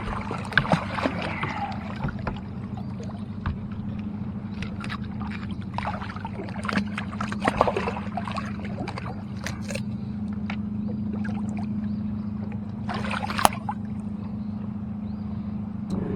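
Water sloshes and slaps against a small boat's hull in irregular bursts over a low steady hum, with occasional sharper splashes and knocks nearby.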